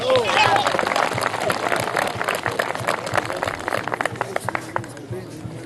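Applause from an assembly at a water festival in Antabamba, steady clapping that rises and thins out over several seconds, with voices talking through it.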